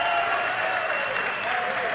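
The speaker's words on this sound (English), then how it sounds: "This crowd is jacked." A crowd at a Battleground Championship Wrestling event cheers and applauds, dense continuous clapping and roaring that fills a packed indoor venue, loud and sustained throughout.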